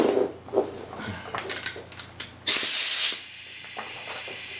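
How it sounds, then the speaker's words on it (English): Compressed air hisses loudly for about half a second as an air line is plugged in to run a rotary-valve-operated cylinder. Quieter clicks and handling noises come before it, and a low background hum follows. "So hang on while I plug my air in."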